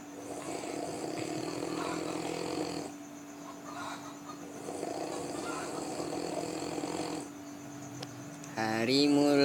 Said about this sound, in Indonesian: masih ngorok, belum bangun